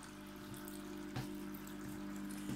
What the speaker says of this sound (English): I've got an air pump pushing up water into an adjacent aquarium